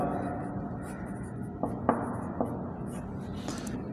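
Marker or chalk writing on a board during a lesson, soft scratchy strokes with a few sharper taps, faint and close, with no talk.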